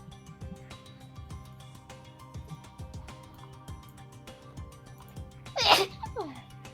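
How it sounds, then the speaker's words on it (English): A single sharp sneeze bursts out near the end over a quiet background of rhythmic plucked music, during a tabletop role-playing game session. "As I sneeze."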